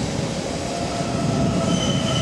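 A test-run train rumbles steadily past at close range, with a continuous roar of wheels on rails and faint metallic squeal.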